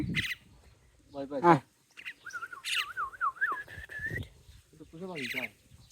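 A small bird perched on a person's shoulder gives bright, warbling chirps and a wavering whistled trill, close and fairly clear, between bursts of nearby talk.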